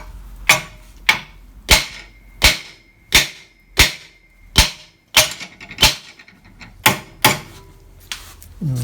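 A hammer strikes repeatedly on a steel steering knuckle to free its ball joint, giving about a dozen loud, ringing metallic blows at a steady, roughly half-second rhythm, each close and sharp.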